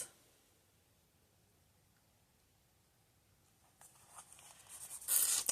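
A pen scratches across the pages of a journal, very faint at first and then louder, scratchy strokes building toward the end with no talk.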